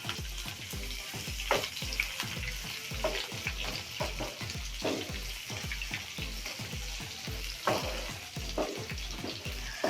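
Finely chopped onion sautéing in a pan until reddish, with a steady sizzle and repeated rhythmic stirring scrapes throughout, close and fairly loud.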